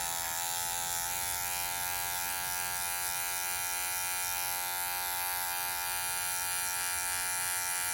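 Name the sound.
electric hair clipper buzzing during a taper haircut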